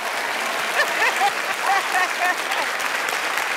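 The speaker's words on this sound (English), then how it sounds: "Big round of applause for Mum." Audience applause in a television studio, steady clapping with a few cheers and whistles rising above it at moderate loudness.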